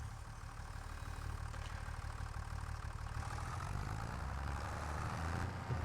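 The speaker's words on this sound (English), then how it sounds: "let's get this tractor fired up here." Tractor engine in Farming Simulator 25 running as a steady, low diesel rumble, loud and continuous with a slight rise toward the end, with no voices.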